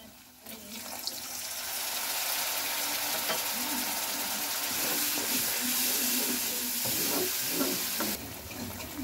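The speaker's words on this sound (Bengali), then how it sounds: "এবার এটাকে ভালো করে আমি কষিয়ে নেব।" Masala of cumin and chilli powder with a splash of water sautéing in a pan for masoor dal, a steady loud sizzle and hiss with occasional stirring scrapes throughout.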